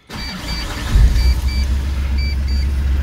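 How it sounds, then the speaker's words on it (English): A Mitsubishi Colt car engine starts up and runs steadily, a loud, close, constant low rumble with a faint whine on top and no talking. "I'm now going to start the engine and let it run."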